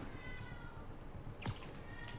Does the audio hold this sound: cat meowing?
yes